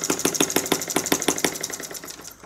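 A single-cylinder Stirlingkit model engine with new ignition runs at a rapid, even firing beat, each pulse sharp and close, then slows and fades as it winds down.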